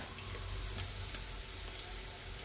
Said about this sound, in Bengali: আলুটা একটু কষিয়ে নেব।